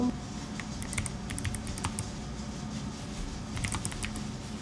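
Rapid clicky keystrokes on a Lofree Flow mechanical keyboard with tactile switches, close and crisp, in uneven bursts with brief pauses between runs of typing.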